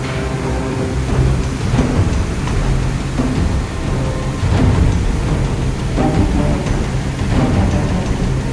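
Heavy monsoon rain from the early southwest monsoon pours steadily as a dense, loud wash, with low rolling rumbles of thunder swelling and fading throughout and no voices.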